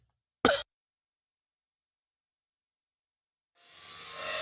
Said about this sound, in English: having a cough attack before you can hit the cough button